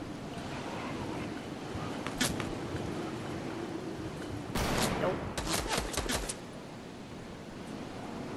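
Desert Eagle pistol shots in a video game, a single sharp crack then a quick cluster of several shots, heard over steady background noise and game ambience, with talking.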